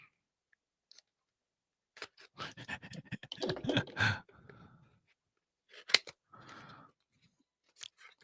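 Packing tape being cut and peeled off a Transformers Missing Link Bumblebee toy box: a cluster of scratchy tearing and peeling bursts in the middle, then a couple of short sharp rips and snips, fairly close.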